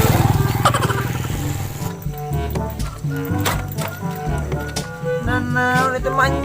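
A motorcycle engine runs steadily up close with a constant low hum, while a scene plays out among people in the background.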